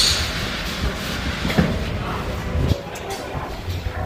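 A local train at a railway station, heard as a low rumble and rolling clatter with a couple of knocks, under a busy platform background of voices.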